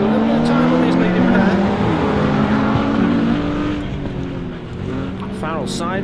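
Historic-category rallycross cars racing in a BTRDA Clubmans Rallycross Championship round, engines droning and revving steadily underneath continuous commentary.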